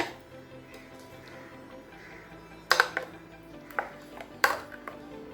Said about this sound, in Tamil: இப்போ இதை நல்லா மிக்ஸ் பண்ணிக்கலாங்க.